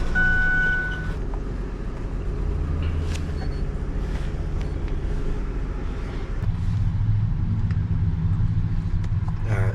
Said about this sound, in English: we'll just start the truck